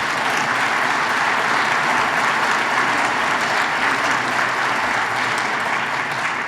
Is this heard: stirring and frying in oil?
no